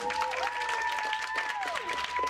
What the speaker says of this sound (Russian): Давайте похлопаем Яне.